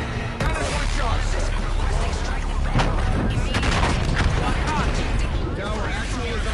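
Cannon fire in a video game, a dense, continuous barrage of booming shots and impacts under game voices talking.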